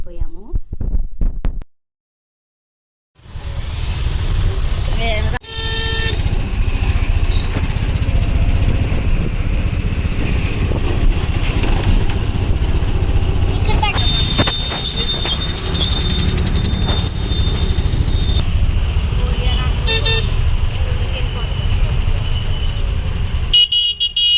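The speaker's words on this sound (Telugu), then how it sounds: "ఆటో ఎక్కేసి వెళ్ళిపోతున్నాం" A steady, loud motor drone of an auto rickshaw ride, with road rumble and a few short horn toots along the way.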